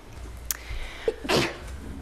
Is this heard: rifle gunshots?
no